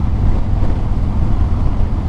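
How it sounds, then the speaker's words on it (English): Constant low roaring wind buffeting the microphone in Kansas, a dense rumble with no talking. "Got another windy day here in good old Kansas"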